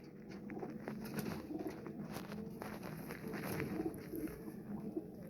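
Pigeons coo softly in a loft where birds are handled, repeated low throaty calls mixed with faint rustling and background chatter of other birds, quiet and close.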